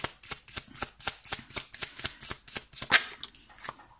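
Tarot cards handled and drawn from a deck: a steady run of about fifteen crisp card flicks and riffles at an even rhythm, close and clear, with no voice.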